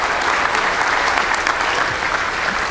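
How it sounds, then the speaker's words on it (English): Audience at a school event applauding a sponsor, with loud, continuous, close clapping throughout the short stretch. "please give a round of applause for our Sailor Classic for helping sponsor this"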